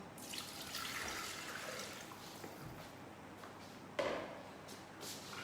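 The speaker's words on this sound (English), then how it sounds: "So pour in our 1000 grams of water" About 1000 grams of water poured into a pot for cooking pasta, a soft, steady splashing trickle with a sharper splash near the end, fairly quiet with no talk.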